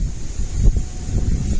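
Wind gusts across a small farm near cows, a steady rushing buffet against the microphone with low rumbling swells, close and alone without speech.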